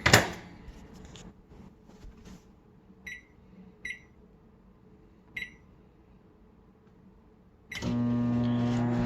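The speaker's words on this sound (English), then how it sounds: "Put it in the microwave." Three short electronic beeps spaced a second or two apart over a low hum, then a steady loud drone with a tonal whine starts near the end.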